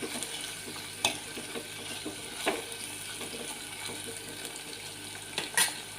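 Two medium-sized tomatoes fry in a pan with a soft, steady sizzle, broken by a few sharp stirring clinks and scrapes at irregular moments. No one speaks.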